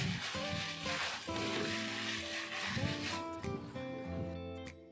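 Food frying in hot oil in a home kitchen, a steady close sizzle running the whole time with faint background music and no talking.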